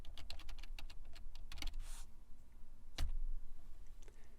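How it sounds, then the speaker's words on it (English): A computer keyboard ticks through fast bursts of keystrokes as a username and password are entered, close and fairly quiet, with a couple of louder key presses standing out. "Go ahead and enter the username, which is Tethys, and then the password that's provided in the course materials."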